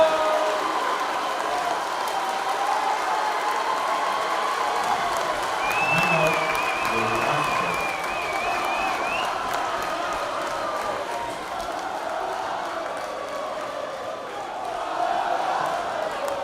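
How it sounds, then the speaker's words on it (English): Salem High School boys basketball crowd at an MIAA Division 3 Final Four game against Lynn Classical, applauding and cheering in a steady, dense roar that fills the gym through a timeout. "Salem crowd coming to life."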